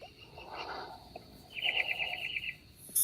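Birds sing outdoors in the small hours of the night, around 3 or 4 a.m. A faint background hush gives way to one steady, bright trill midway through, then a brief sharper call at the end.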